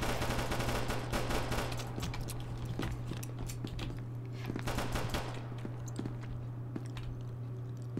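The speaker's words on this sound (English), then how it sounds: "I heard firing." Gunfire in SCP: Secret Laboratory comes as quick, dense bursts of rapid shots, fairly faint and distant, over a steady low hum and some clattery noise.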